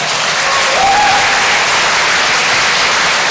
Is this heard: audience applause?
yes